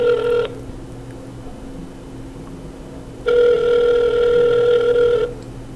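An outgoing phone call rings on the line before it goes to voicemail. Two long, steady ringback tones sound clearly, with a quiet gap between them, and no one speaks over them.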